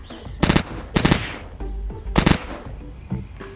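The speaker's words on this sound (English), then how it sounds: "It's a super fast firing 3-round burst weapon" A fast-firing three-round burst rifle in the video game Unturned fires three loud, crisp bursts in quick succession, each a tight cluster of rapid cracks with brief gaps between.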